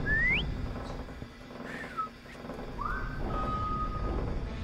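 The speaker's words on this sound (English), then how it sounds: "Whistle." Eerie whistling in a ghost ship video game: a few separate rising and gliding whistle tones, thin and fairly faint, spaced out over low ambient background noise.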